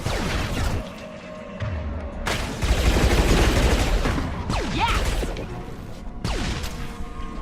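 Shotgun blasts ring out in the Mass Effect 2 video game, several heavy booming shots spaced a second or two apart, each followed by a sharp crash and a decaying tail over a rumbling combat background.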